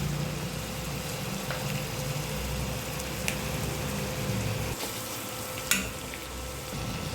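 Onions frying in a kadai until golden brown, a steady, even sizzle running throughout at moderate level, with a couple of brief sharp clicks from stirring near the end.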